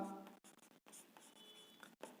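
Marker or chalk writing on a classroom board during a maths lesson, a few short scratchy strokes separated by brief pauses, close and fairly quiet, with no talk.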